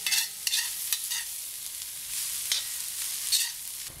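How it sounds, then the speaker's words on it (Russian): Pumpkin fries in a pan over medium heat, making a soft sizzle broken by repeated scraping stirs, several sharp strokes spaced through the stretch. "И и тоже обжариваем ее."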